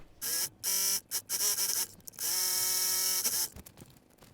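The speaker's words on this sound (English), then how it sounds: "So I'll just stitch it on this side and on this side." A sewing machine stitches fabric for a hair tool bag, running in several short whirring bursts with brief pauses between them and then one longer steady run near the end, close and fairly loud with no talking.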